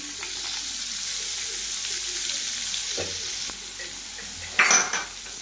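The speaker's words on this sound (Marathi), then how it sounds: "आता चांगले खडे मसाले फ्राय होऊन देऊ आपण." Whole spices sizzle in hot oil and butter in a pan for Afghani chicken gravy, a steady frying hiss with a few soft utensil scrapes and a brief louder clatter near the end.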